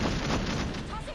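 A grenade blast in the zombie warfare game Cepheus Protocol, a loud, dense, rumbling boom that fills the short moment, with a voice partly under it.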